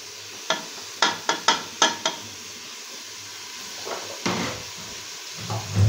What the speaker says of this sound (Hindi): और 5 से 7 मिनट तक हम लोग गोश्त को अच्छी तरह से भूनेंगे।